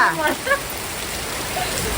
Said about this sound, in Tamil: நம்ம ஊரில் பாருங்க மழை பாருங்க எப்படி பாருங்க செம்ம மழைங்க